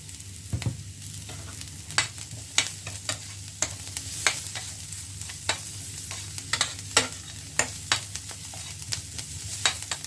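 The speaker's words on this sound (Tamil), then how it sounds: "இதை கொஞ்சமாக வதக்கி எடுத்துக்கொள்ளுவோம்" Sautéing ingredients for prawn vadai in a pan with a little salt: a steady sizzle with a dozen or so sharp stirring scrapes at an uneven rhythm, close and alone.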